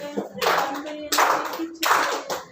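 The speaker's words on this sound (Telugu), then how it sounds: "చప్పట్లు కొట్టరా మీరు." A church congregation claps hands during a prayer meeting in three loud bursts separated by brief pauses, with voices mixed in among the clapping.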